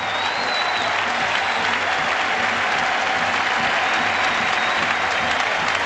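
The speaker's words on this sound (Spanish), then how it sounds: "A ovación da noite para o número 20 da selección portuguesa" A stadium crowd at a Portugal versus Brazil international friendly gives a sustained ovation as Porto's Deco, Portugal's number 20, comes on as a substitute, with steady loud applause and cheering throughout.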